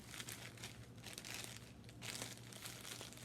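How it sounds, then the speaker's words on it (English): Strong plastic freezer bag being handled close up, with quiet bursts of crisp crinkling and rustling that come and go over a few seconds. "the type of bags I usually use are freezer bags and strong type plastic bags like these"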